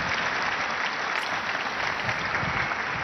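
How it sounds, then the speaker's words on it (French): A large crowd at a general audience claps in dense, sustained applause, loud and even throughout with no voices above it. "Et on l'applaudit."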